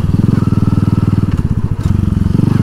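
A Honda C70 motorcycle fitted with a Supra engine runs underway with a loud, rapid, steady four-stroke putter and a brief dip in the rhythm partway through.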